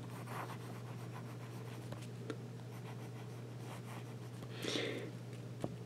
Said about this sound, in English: I was just scribbling.